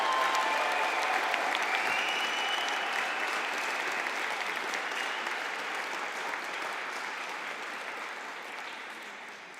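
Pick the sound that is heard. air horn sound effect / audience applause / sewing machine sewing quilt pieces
audience applause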